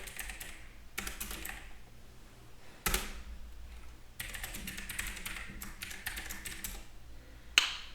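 Typing commands on a computer keyboard at a Linux server, close clicks in short bursts separated by brief pauses, with a few sharper key strikes standing out.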